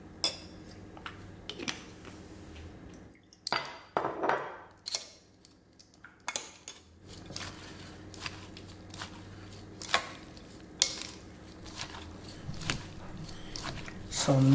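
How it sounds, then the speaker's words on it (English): Green papaya salad being tossed with apple cider vinegar in a bowl, with scattered clattering, scraping and tapping of utensils in uneven bursts and quiet pauses between them. "So mix properly."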